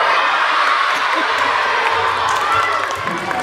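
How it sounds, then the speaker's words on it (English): Sustained loud applause and cheering from a live audience at a stage magic show, a steady crowd roar with whoops throughout, clapping for the performer Felix. "you guys gotta give Felix the biggest round of applause of his life"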